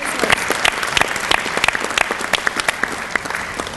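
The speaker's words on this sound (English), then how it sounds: "give yourself a round of applause for making time in your day" An audience at a small business panel event applauding, a dense steady patter of many hands clapping with scattered louder claps throughout, close and without talk.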